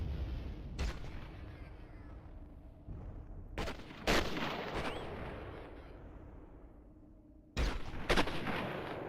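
Gunfire in the Fire Warrior video game: several sharp, loud shots spaced apart over a steady background of rumbling battle noise, with no talking.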